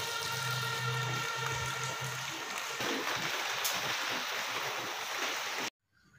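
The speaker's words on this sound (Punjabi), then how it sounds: "ਹੁਣ ਦੇਖੋ ਕਿੰਨੀ ਬਾਰਿਸ਼" Heavy monsoon rain pours steadily outdoors as a dense, even hiss for several seconds, then cuts off abruptly near the end.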